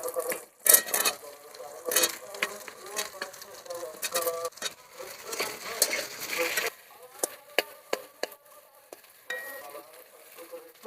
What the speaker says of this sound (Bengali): আমি আলু কচুটা ভেজে নেব ভালো করে